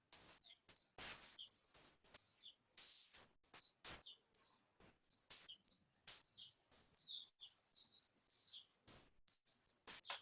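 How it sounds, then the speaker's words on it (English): Birds chirp and tweet outdoors in quick, high, scattered calls over a quiet background, faint and distant, with a few soft thumps and rustles mixed in. "I can hear all the birds singing, the gentle breeze"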